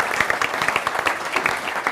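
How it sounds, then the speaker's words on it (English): A live audience on a British comedy tour gives a round of applause, dense continuous clapping for a couple of seconds with no talk over it. "I'm asking you all to give a round of applause to Matt, because he's a new father."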